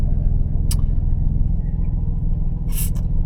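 A car idling after a start following 12 days unused, a steady low engine rumble running throughout at close range, with a couple of brief higher clicks or hisses standing out above it.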